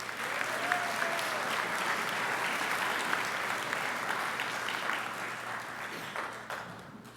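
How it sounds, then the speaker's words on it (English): A school assembly audience breaks into sustained applause, a dense, even wash of many hands clapping at once that holds steady and then begins to thin out near the end. "Would you give yourselves a round of applause?"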